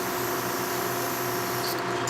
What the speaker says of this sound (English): So now we just start spraying.